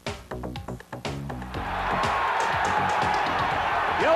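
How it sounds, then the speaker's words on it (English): A 1992 boxing crowd roars as Turner fights back against Hardy. Loud, sustained cheering swells in after a short stretch of sharp hits and voices, then holds as a dense, continuous roar. "They're cheering Turner fighting back because it looked like Hardy was going to put him away"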